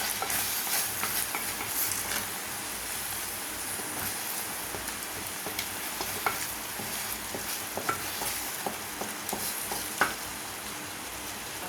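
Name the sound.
stirring egg gravy in a pan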